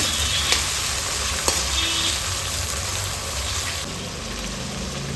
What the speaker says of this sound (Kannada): ಈರುಳ್ಳಿ ಈ ಹದದಲ್ಲಿ ಫ್ರೈ ಆಗುವಾಗ ಎರಡು ಟೊಮೆಟೊನ ಸಣ್ಣದಾಗಿ ಕಟ್ ಮಾಡಿ ಹಾಕೊಳ್ತಾ ಇದ್ದೀನಿ